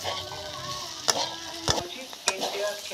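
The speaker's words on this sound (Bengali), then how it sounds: "ভালো করে ভাজবো" Beetroot frying in a pan as beet bhaja sizzles softly and steadily, broken by three sharp stirring clacks of a spatula against the pan.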